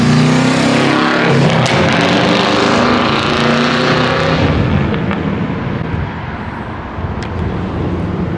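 Straight-piped Subaru STI boxer engine roaring past in a loud drive-by, its rumbling exhaust swelling and fading, with sharp exhaust pops crackling as it passes.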